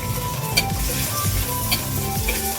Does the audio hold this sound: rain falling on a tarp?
no